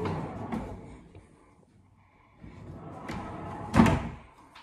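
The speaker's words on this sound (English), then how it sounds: "Another sliding door for the bathroom." A sliding bathroom door in a shipping container holiday house rolls along its track and bumps shut with a sharp thud near the end, heard close up in a quiet room.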